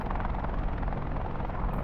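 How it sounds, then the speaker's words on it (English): Helicopter in a VR game, a steady close rotor thrum and engine roar throughout, loud and continuous with no distinct impact. "that pilot just slammed his helicopter in the ground"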